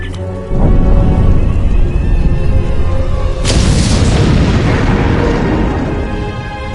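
A loud explosion goes off in the space game Star Trek Online, with a heavy booming blast followed by a second big burst about three seconds later, each rumbling on for a long time.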